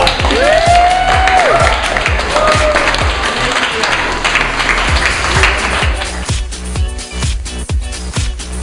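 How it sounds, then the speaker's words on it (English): Applause and clapping at a 2012 Kukui Cup Round 1 lounge award party. A crowd claps loudly and steadily throughout, with voices mixed in and a few sharper, isolated claps toward the end. "Another round of applause."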